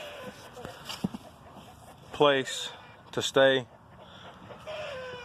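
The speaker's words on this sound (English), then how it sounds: "chickens are acting crazy." Chickens clucking and squawking excitedly as they roam outside after rain, with two loud bursts of calls standing out over a person talking nearby.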